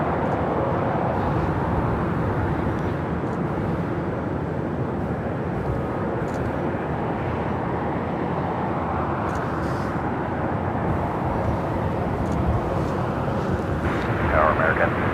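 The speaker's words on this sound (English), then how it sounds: "the Air China Cargo 777 freighter now rolling down" An Air China Cargo Boeing 777 freighter rolls for takeoff at LAX with a broad, steady jet engine roar that holds for the whole stretch, while a voice talks over it.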